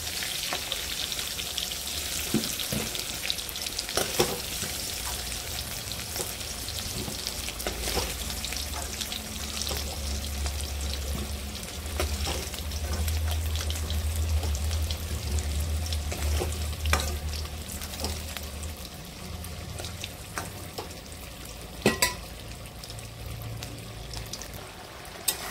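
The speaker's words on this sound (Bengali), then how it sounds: "মাংসটা আর একটু কষিয়ে নেব।" Potatoes and mutton fry in mustard oil in a pan, giving a steady close sizzle and crackle throughout, with occasional stirring scrapes and clinks and no talk.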